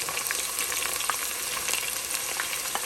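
Chopped onions fry in oil for a Ghanaian tomato beef stew, a moderate, even hiss of sizzling that holds steady throughout, close by and free of talk.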